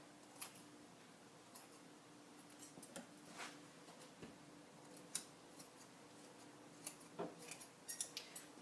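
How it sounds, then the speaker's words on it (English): Scissors snip through a piece of cheesecloth, producing faint, quiet clicks and short crisp cuts spaced irregularly over a low steady background, with a small cluster of snips near the end. "I'm going to cut off another piece of cheesecloth"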